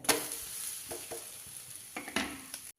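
A spatula scrapes and flips a ghee-brushed chili dosa on a hot pan: a few quick scraping bursts over a low, continuous sizzle.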